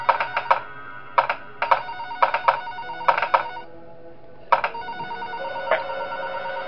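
Telephone ringing in the video game Five Nights at SMG4, a series of clear electronic rings in short repeated bursts with brief pauses, loud and alone.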